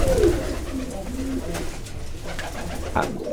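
A Jalali pigeon sitting on eggs and chicks in a loft coos softly in low, throaty repeated notes close by, over a steady background hum.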